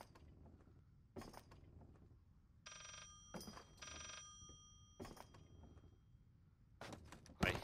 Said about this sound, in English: And there's another phone.